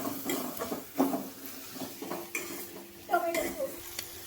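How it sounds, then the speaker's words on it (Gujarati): A spoon stirs tomato sauce into bubbling manchurian gravy in a pan, making soft repeated scrapes and light clinks over a gentle sizzle, close and fairly quiet. "હવે આ નાખી દીધો ટમેટાનો સોસ અને હલાવી નાખો"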